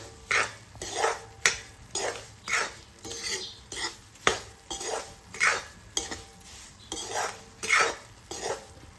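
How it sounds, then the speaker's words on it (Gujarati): A spoon stirs semolina sheera in a pan with ghee and cardamom powder, each pass giving a distinct scrape. About a dozen scrapes fall in a steady rhythm, close and moderately loud, with no voices. "ફરીથી મિક્સ કરી લઈએ"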